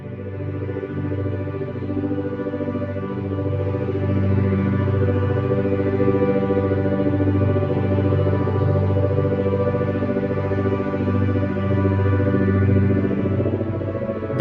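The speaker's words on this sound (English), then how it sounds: "That is the sound of Brain FM, and the kind of sort of vibration you can hear in the background." Brain FM focus music track, a steady layered electronic tone with a low persistent vibration running underneath, sustained and even throughout with no talking.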